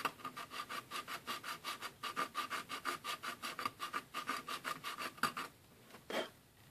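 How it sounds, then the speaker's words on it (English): A razor saw cuts a scratch-built part for a 1/35 scale science fiction model: close, quick back-and-forth rasping strokes in a steady rhythm. The strokes pause briefly near the end, then one more stroke follows. "So I'm using a razor saw"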